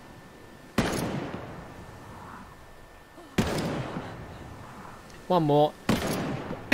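Three loud, separate blasts from an ACS-12 automatic shotgun in Ghost Recon Breakpoint, each a sharp crack with a decaying tail, spaced a few seconds apart. A voice speaks briefly between the shots.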